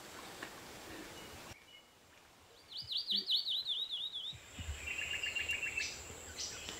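Bird song in open country: clear repeated high whistled phrases in rapid trills, moderately close, over a faint background hiss with no talking.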